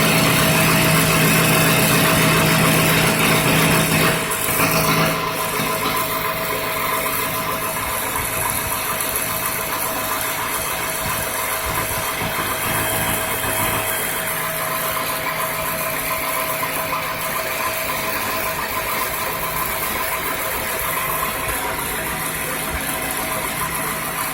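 A permanent magnet motor drawing just over 1 amp runs continuously, a steady mid-pitched electric hum with slight vibration that holds evenly for the whole stretch, a little louder in the first few seconds.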